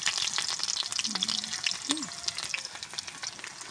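Spice paste frying in hot oil with panch phoron and crushed garlic, a steady close sizzle with stirring scrapes throughout, for a cauliflower and pumpkin dish.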